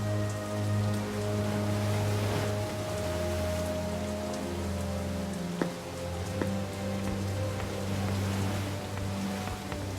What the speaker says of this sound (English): It must rain here quite frequently